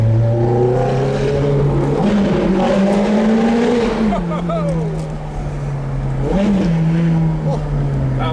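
Supercars roar and rev loudly in an echoing tunnel, pitch rising as they accelerate, with people talking over the noise.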